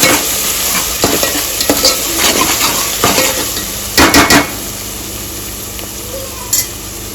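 A spoon scrapes and clanks around a pan of salted misal curry over a light sizzle, with a few louder metallic knocks near the end.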